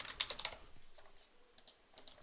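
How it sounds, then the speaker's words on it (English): Quiet, rapid keystrokes on a computer keyboard while entering room measurements into office software, a soft burst of clicks followed by a few sparse taps. "Typing in the feet and inches"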